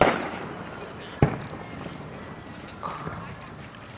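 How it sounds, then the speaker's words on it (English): Fireworks bursting over Lake Chelan at a public show: one sharp close boom stands out, with a softer burst later, over steady crowd and ambient noise. "Watch the fireworks."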